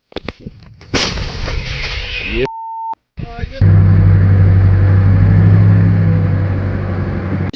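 A short beep and a burst of noise come before one loud, close artillery blast. Its deep rumble rolls on and slowly fades over several seconds.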